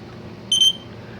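An old household smoke detector gives one short, shrill electronic beep after its test button is pressed, loud against a quiet room.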